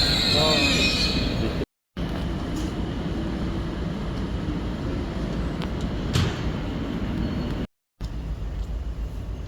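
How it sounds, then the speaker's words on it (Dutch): Electric ICNG intercity train interior rumble with a steady low drone, brief hiss and clunks, as from a carriage in motion or idling at a platform. "ik stap nu in deze ICNG naar Amsterdam Centraal"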